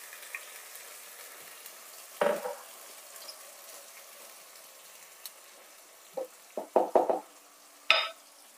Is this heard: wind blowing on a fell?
no